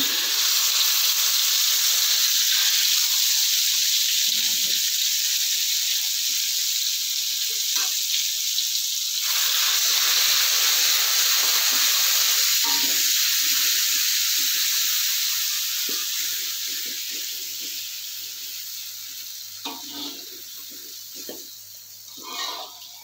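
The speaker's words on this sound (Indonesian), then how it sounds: "Masih minyak yang sama, kita tumis bumbunya" Spices sautéing in hot oil, a loud, steady sizzle close up that gradually softens over the last several seconds, with occasional stirring clinks and scrapes.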